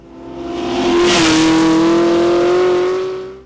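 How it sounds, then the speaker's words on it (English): A V8-swapped Mazda Miata time attack car with a 500-horsepower engine revs loudly and close, rising into a sustained roaring note that holds steady for a few seconds before easing off. "This car makes the sound of freedom."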